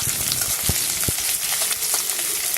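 Grated ginger and chopped garlic fry in a pan for chilli baby corn, giving a close, steady, dense hiss with a few low thumps of stirring, without any voices.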